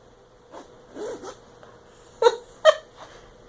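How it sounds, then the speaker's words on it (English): A zipper on a fabric bag rasps in short bursts, a few uneven pulls with two sharper tugs near the end as it catches on the fabric, close by and with no voices. "the zipper kept catching on the fabric as I zipped it"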